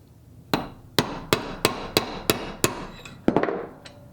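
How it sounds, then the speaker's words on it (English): Hammer tapping small rods out of the shift lever wheels of a Honda VFR motorcycle: about nine sharp metallic strikes at a steady, slightly quickening rhythm, close and clear, ending with a quick double hit. "I'm gonna try the hammer approach."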